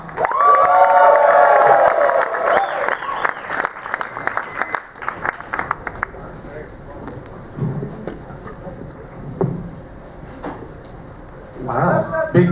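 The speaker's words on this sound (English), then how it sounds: "Wow, big crowd for closing ceremonies." A large crowd cheers and applauds at closing ceremonies, a loud burst of clapping and shouts that thins into scattered claps and murmurs, with voices talking over it.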